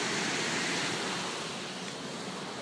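Continuous broadband rush of a waterfall in Minneapolis, steady and fairly loud, with wind-like hiss and no voices.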